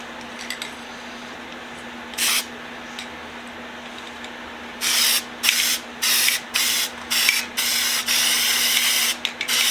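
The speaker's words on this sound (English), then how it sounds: "I got mad spray painting skills" Flat black spray paint hisses from an aerosol can in a workshop, first in a few short bursts and then in a rapid series of close, loud sprays separated by brief pauses.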